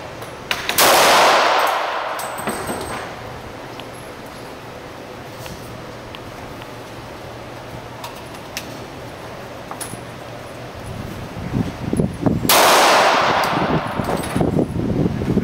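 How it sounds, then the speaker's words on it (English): A Mossberg 500 12 gauge shotgun with a pistol grip and a top-folding stock fires two loud, sharp blasts at an outdoor range, about eleven seconds apart. Low background noise and faint clinks fill the gap between the shots. "when you go to the gun range and you shoot the 12 gauge off"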